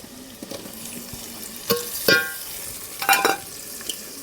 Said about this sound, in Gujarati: હવે ડુંગળી ફર્સ્ટ ક્લાસ સડી ગઈ છે મિત્રો. હવે નાખી દઈશું મરચાં.